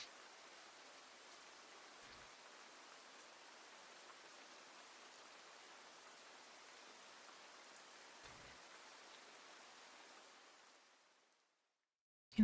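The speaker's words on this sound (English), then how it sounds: "the rain sounds are pretty nice with this at the same time." Steady rain falls as an even, soft hiss that holds for several seconds and then fades away into silence near the end.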